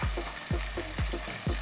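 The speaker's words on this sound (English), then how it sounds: "So I'm now gonna add some cooking cream." Half a liter of single cooking cream hitting a hot pan for a bacon and potato cream sauce, giving a steady loud sizzle with four rhythmic low scraping strokes.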